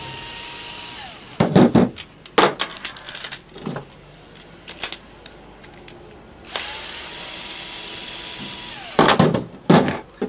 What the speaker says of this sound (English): You can use a screwdriver or a 1/4-inch nut driver. Either of the two will work. You're going to remove the screws.